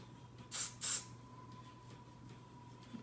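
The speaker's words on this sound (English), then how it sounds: "I'm gonna spray a little bit on this side." Got2b hair spray sprayed onto a wig in two short, close bursts of hiss, one right after the other, followed by quiet room tone and no talking.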